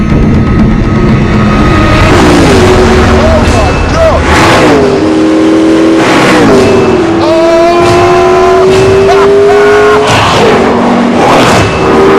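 A very lightweight, very fast car drives at speed, its engine note loud and close, rising and falling through gear changes and revs, with a voice talking over parts of it.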